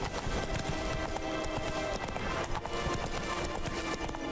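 Roach, a horse in The Witcher 3: Wild Hunt, gallops through Novigrad with a steady stream of hoofbeats, dense and continuous over game music and ambient noise.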